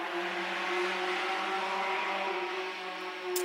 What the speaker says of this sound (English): got some motorcycles out there